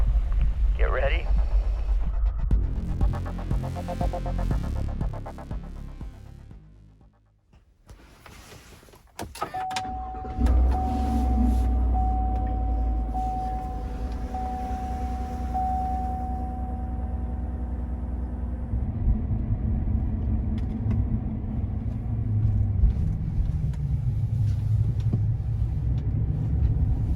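A race car at early-morning testing in Texas turns over and fires, with whining and mechanical noise, a brief lull, then a loud, steady rumbling idle with voices talking nearby.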